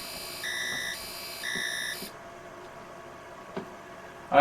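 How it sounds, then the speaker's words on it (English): An electronic alarm sounds in repeated pulsed bursts of a bright, buzzy tone, two long beeps separated by a short gap, then stops, leaving a quiet room with a faint tap. "I have an alarm that goes off to let me know that I've got about 3 minutes or so"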